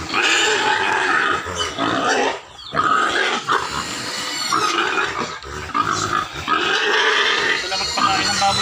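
Pigs grunting and squealing close by, a dense, continuous chorus of snorts and oinks with a brief lull partway through.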